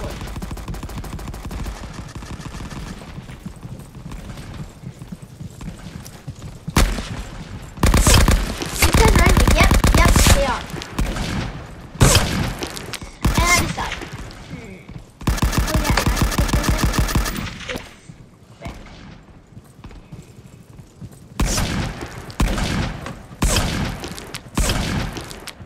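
Weapon fire in the video game Rising Front, heard as loud bursts of rapid shots in several separate volleys with quieter game noise between them.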